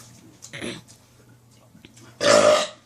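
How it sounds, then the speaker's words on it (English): A very loud, long belch bursts out near the end, forced for a loudest-burp attempt; before it come a shorter burst and some breathing and soft voices. "Come on, world's loudest burp."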